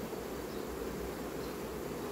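Honeybees on a hive frame give a steady, dense buzzing drone, continuous and close, with no talk over it.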